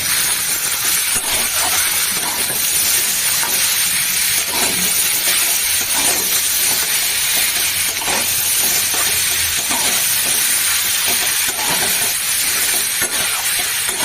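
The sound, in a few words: frying bay leaf in a pan for curry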